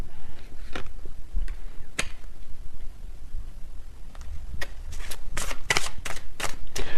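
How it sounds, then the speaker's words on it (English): A tarot messages card deck being shuffled, giving a run of crisp, papery riffles and snaps that grow denser and louder toward the end, close up with no talk. "when I shuffle this messages deck, which I'm actually going to use right now"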